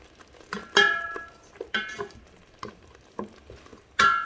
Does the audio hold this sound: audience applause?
no